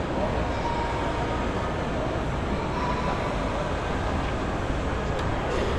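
Busy ambience inside the Oculus subway station in New York, a dense steady roar of trains and crowd echoing through the large white hall, with indistinct voices blended into the wash.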